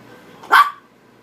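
A single sharp dog bark, close and fairly loud, breaks a quiet background.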